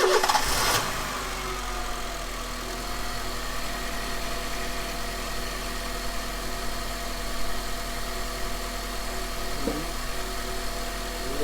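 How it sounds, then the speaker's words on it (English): A car engine cranks briefly with the lights left on, catches, and settles into a steady low idle hum that continues to the end. "I'm going to crank, leaving the lights on."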